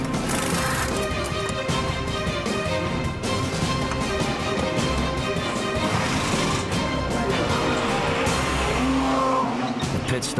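An Audi race car comes into the pit lane, its engine loud and continuous with tire noise and dense crowd and track ambience, a commentator's voice running over the top.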